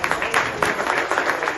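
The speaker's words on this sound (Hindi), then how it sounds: "ताली बजाओ भैया।" Audience applause at a mushaira and kavi sammelan poetry gathering, a dense burst of hand clapping with quick rhythmic peaks filling the short stretch, fairly close and steady.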